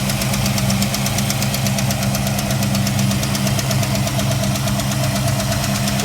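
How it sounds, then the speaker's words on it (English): A 1963 Mercury Comet's 289 V8, fitted with exhaust manifolds and carrying a slight header or exhaust leak, idles steadily up close, its even low rumble and faint ticking running unbroken throughout. "Look how smooth that engine is."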